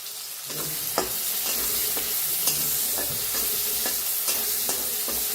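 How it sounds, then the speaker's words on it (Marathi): Chopped onion and crushed garlic sizzle steadily in a hot pan for a village-style cluster bean curry, with a spoon stirring and scraping in repeated clinks over the continuous frying hiss; no voices. "लसूण चेचून घेतलाय, ते बी टाकूया. आणि छान दोन्ही भाजून घेऊया."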